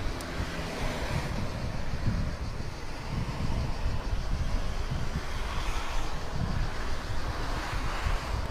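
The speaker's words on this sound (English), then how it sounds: "Now the wind is starting to pick up a little bit" Steady wind gusting over the water at a canoe marathon race course, a continuous broad rush and microphone buffeting with low rumble, no talk.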